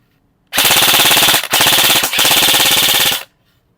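A KYRTAC REC7 Barrett Black airsoft electric gun fires full auto in three loud, close rapid bursts, the last one longest, with a brief pause between the first two and quiet before and after.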